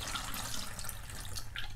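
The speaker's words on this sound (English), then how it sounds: "So I'm going to pour my water in here." Water is poured through a funnel into a container, a close, continuous trickling and splashing flow with gurgling bubbles near the end.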